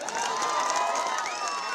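An audience at a political rally in Shivamogga cheers and claps as a steady crowd roar. The sound is moderately distant and continuous, with excited shouts mixed in.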